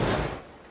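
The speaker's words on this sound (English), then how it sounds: "New video capturing the blast." A single heavy explosion at a hospital in Gaza, reportedly a misfired rocket, is heard as a dense, booming burst that fades quickly into a rumbling tail, loud and full.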